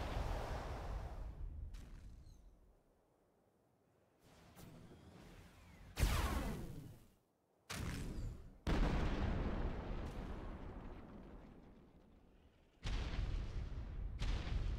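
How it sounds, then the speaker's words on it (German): Cannon fire in the video game Ark Survival Evolved: several loud, booming blasts with sharp onsets and long rumbling decays, spaced irregularly over steady background game noise. "anstandslos schießen mit einer Kanone drauf"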